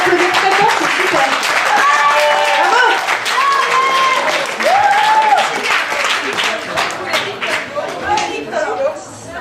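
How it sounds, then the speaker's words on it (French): Audience applause at a farewell and thank-you gathering in France, a broad steady wash of clapping filling the whole stretch, with voices and calls mixed in throughout. "On peut les applaudir très fort, c'est super."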